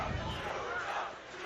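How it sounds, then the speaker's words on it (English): A crowd roars and cheers at a varsity high school football game between Holliston Panthers and Old Rochester, a broad, distant wash of voices that swells and then eases slightly toward the end. "The Kamitian crowd a little energized now that the Panthers have taken the lead here in the first half."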